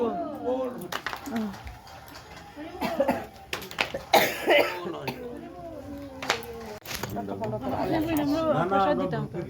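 One person coughs in several sharp, rough bursts, some close together, mixed in with people talking nearby.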